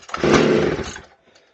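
A McCulloch Pro Mac 610 chainsaw engine briefly catches during starting, giving a loud, close, short burst of rough engine noise that dies away within a second.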